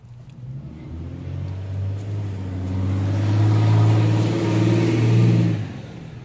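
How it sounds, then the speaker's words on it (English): Delivery trucks pass in the background near a raised-bed vegetable garden, a low engine rumble that swells to a peak around the middle and then fades away, with no talking over it. "Sorry about that noise in the background."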